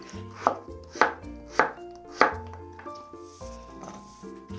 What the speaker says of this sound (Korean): 오이를 썰어줄 텐데 너무 얇지 않은 두께로 썰어주세요.